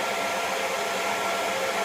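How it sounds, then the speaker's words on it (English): A hair dryer on low heat blows in a steady, even whoosh throughout, constant airflow hiss with no changes in level. "I'm just going to use that hair dryer to kind of wing up my"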